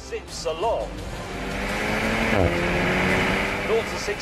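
Sports car with a 1.8-litre, 252 hp engine accelerating hard, its rising engine note steady and fairly loud, with a voice briefly audible over it.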